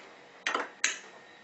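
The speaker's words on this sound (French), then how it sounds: "Et on va le hacher à la fourchette." A fork mashing fish in a dish for a bean and potato baby purée, two quick scraping clinks against the dish, close and clear over a quiet room.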